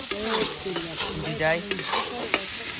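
Meat sizzles with turmeric and spices in a pan at a night camp, under busy close stirring that scrapes and clacks against the pan, with a few sharp knocks over a moderate frying hiss.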